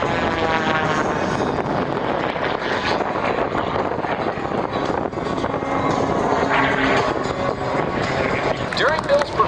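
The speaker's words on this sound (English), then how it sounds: "he will actually use the gyroscopic force of the propeller and, of course, the engine to do maneuvers that are just insane to think about" Propeller aerobatic airplane performing at the Toledo Air Show, its engine droning loudly and continuously with shifting pitch as it maneuvers, while an announcer talks over a public address system throughout.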